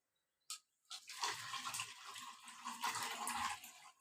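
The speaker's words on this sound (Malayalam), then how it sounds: "പിന്നെ 1/2 ലിറ്റർ വെള്ളം ഒഴിച്ച് അടുത്ത 1/2 ലിറ്റർ" Water poured into a pot for beetroot wine: after a short splash, a steady close pour runs for about three seconds, with no talk over it.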